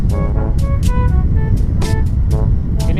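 Busy street traffic with a steady engine rumble, passing vehicles and a few short horn toots cutting through.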